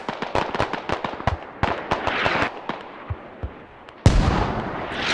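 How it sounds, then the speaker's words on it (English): Mortar rounds exploding in the military shooter game Squad, with repeated sharp blasts and crackling impacts in quick succession, then a single heavy, loud detonation followed by a rumbling tail. "Just in time for the mortars."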